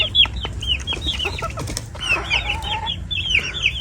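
Knockout fighting roosters of game breeds in Namangan cluck and squawk close by in short repeated calls, with wing flaps and scuffling among them.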